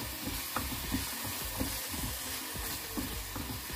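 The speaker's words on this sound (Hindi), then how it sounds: "डालने के बाद इसको अच्छे से चला लेंगे ताकि सारे मसालों में अच्छे से मिल जाए।" Capsicum and peas being stirred into masala vermicelli in a pan give a quiet, continuous sizzle broken by light scraping taps from the spoon at an uneven pace.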